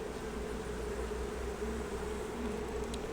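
Honey bees in a sparsely populated nuc hive make a low, steady hum that holds at an even level throughout, close and continuous with no voices.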